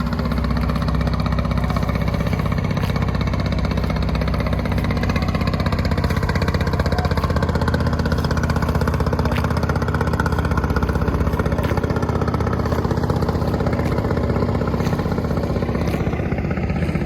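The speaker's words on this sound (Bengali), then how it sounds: "ও দুটো একসাথে যাচ্ছে লঞ্চ।" A river launch or trawler engine runs in a steady, loud, continuous drone with a low throbbing rumble, unbroken throughout.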